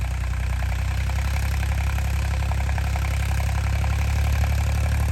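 A heavy diesel tractor engine idles steadily up close in a rice-transplanting field, a constant low throbbing rumble with no talk.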